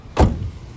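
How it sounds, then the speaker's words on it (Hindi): A car bonnet is opened with a single short, dull mechanical clunk, close by, followed by quiet. "बोनेट खुल गया हमारा"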